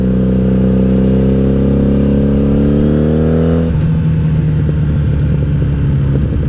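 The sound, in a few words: 1997 Honda Magna VF750C motorcycle engine revving, Vance and Hines exhaust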